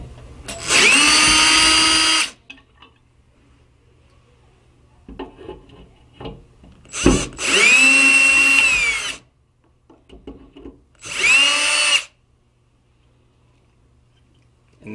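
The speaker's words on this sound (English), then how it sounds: "We'll go ahead and remove these two screws." A power drill backs out screws from the interior trim over a Mov-a-bolt mechanism, three close, loud whirring bursts of about a second or two each, separated by quieter handling clicks and rattles.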